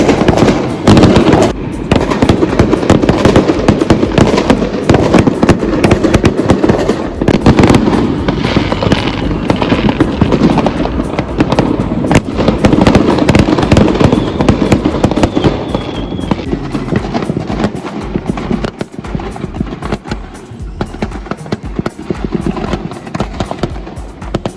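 New Year fireworks bursting over London at night, a dense, continuous barrage of loud cracks and booms with overlapping explosions, easing slightly toward the end.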